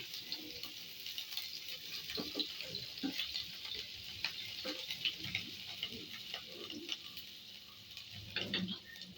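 Garlic and onion sautéing in a pan for a home-cooked chicken dish, a faint, steady sizzle with scattered light crackles and occasional stirring clinks.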